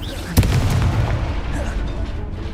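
A Confringo spell blast goes off in Hogwarts Legacy, a single loud burst with a booming low rumble that tails off over a couple of seconds amid game sound.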